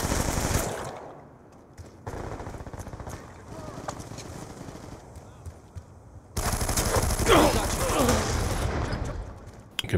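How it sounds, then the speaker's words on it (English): Light machine gun fire in Black Ops 2 multiplayer comes in rapid bursts, mixed with other gunfire and game effects, with a louder stretch near the end. "You can see the opponent's LMG is being effective at that point right there, cutting me down."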